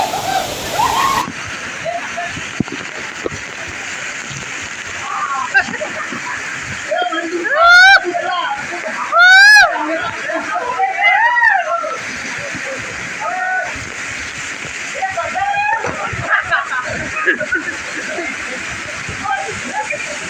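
A steady rush of water falling at a waterfall in a national park near Mumbai fills the scene while people shout and splash beneath it, with voices rising and falling over the roar.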